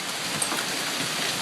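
Hail falls during a strong summer thunderstorm in Mamaroneck, New York, making a dense, steady hiss of pelting ice close by with no pauses.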